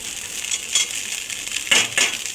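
Fried ingredients are tipped into a pan of soaked flattened rice for a Bengali breakfast dish. A few bright metallic clinks of a utensil against the pan ring out close by over a faint background hiss, with no speech.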